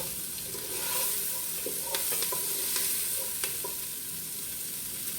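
Homemade ketchup ingredients sizzle and fry in a pan, a steady close crackling hiss with occasional stirring clinks and scrapes, no talk.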